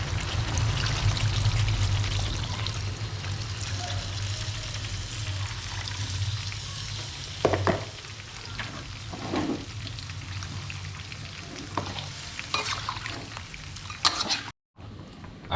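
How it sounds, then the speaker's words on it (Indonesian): Coconut milk for chicken opor bubbles and simmers in a pot, a steady soft sizzling wash with occasional clinks and scrapes of stirring. "kalau udah mendidih seperti ini, selanjutnya kita bumbuin"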